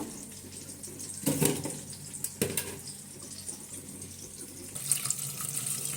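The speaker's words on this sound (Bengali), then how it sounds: "এখন একটু পানি দিয়ে নিব" Water pours into a cooking pot for oil-free greens cooked with small shrimp, a close, splashing stream with a few louder gushes and a steady trickle between.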